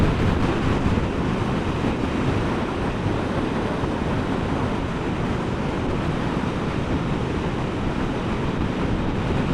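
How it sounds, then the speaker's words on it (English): Steady broadband wind rushes and buffets the microphone continuously, loud and close, with no other clear sounds. "just a little bit of wind today"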